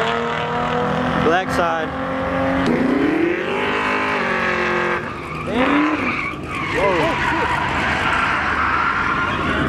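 A street race between a Dodge Charger Hellcat and a Corvette C6: loud revving engines and long squealing, skidding tires close by, with people shouting and talking over the noise.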